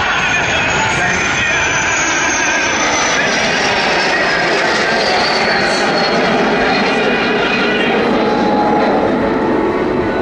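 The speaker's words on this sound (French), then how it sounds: "la patrouille revient sur notre droite avec ces magnifiques avions" Aerobatic patrol airplanes (Patrouille Tranchant) fly past at the Cambrai air show, a loud, continuous engine roar that swells and sweeps steadily across the full clip.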